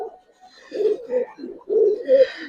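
A pigeon coos close by in a series of low, throaty phrases that swell and pause, a voice likened to the call of a koka pigeon, heard alone without talk.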